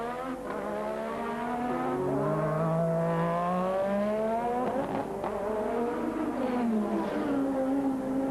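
Screaming 1986 Formula 1 race cars at full throttle on track, engine tones sweeping up and down through gear changes as they pass close by, loud and continuous with no talk.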